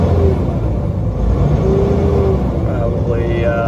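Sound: Peterbilt 379 truck with Cat C15 engine accelerating

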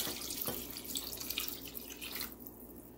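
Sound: water poured into cooking pot

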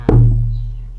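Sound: Thai long drum open bom stroke

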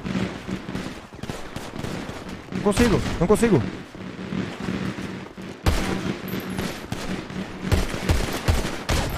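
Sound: gunfire in a video game

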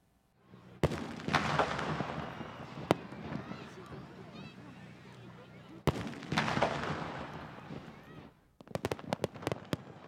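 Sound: fireworks at Takahama fireworks festival

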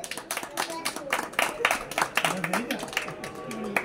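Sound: applause

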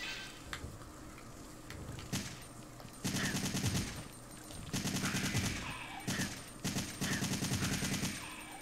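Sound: assault rifle gunfire in Resident Evil 3 Nemesis video game

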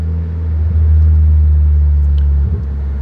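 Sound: car driving and accelerating

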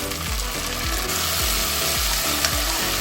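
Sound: stirring ginger garlic paste into frying mutton keema

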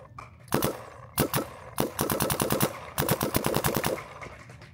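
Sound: paintball gun firing

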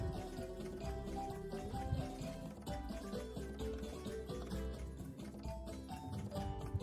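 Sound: washing sago pearls with poured water

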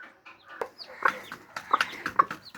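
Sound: hen clucking near her hatched chicks

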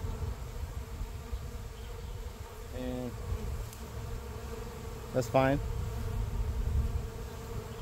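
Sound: honey bees buzzing around a hive

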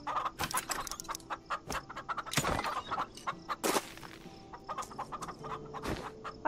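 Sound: chickens clucking in video game Farm Together

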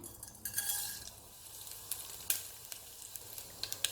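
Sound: mustard seeds, urad dal, cumin sizzling in sesame oil

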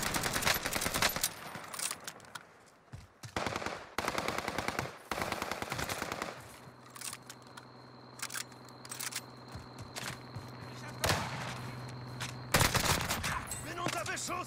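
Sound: gunfire in a video game

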